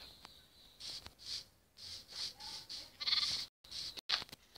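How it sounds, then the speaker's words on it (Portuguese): Sheep in Minecraft bleat repeatedly, loud and near, in a run of short wavering calls with brief gaps and clicks between them; no talking. "Ele é uma ovelha."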